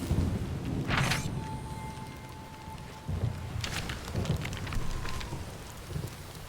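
Rain and thunder in a storm level of the video game Tearaway Unfolded, a constant rushing rainfall with deep rumbles and a few sharp thunder cracks, alongside brief tonal game effects.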